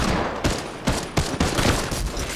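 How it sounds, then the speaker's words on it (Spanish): Rapid silenced gunshots in Fortnite, a series of sharp muffled bursts in quick succession, loud and close. "Me estoy fallando todos los tiros con el silenciado."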